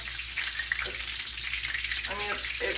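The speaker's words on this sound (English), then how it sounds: "And now we're frying them and we're almost done." Continuous bubbling sizzle of rotisserie chicken taquitos frying in hot oil, with a brief voice-like sound near the end.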